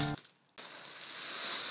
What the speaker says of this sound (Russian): Сейчас переберем 1000 монет номиналом 2 рубля.